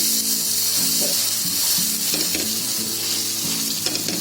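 Bread sandwich toasting in butter on a pan over low heat, a constant close sizzle and hiss with soft clinks and shuffles of the pan underneath, no voices.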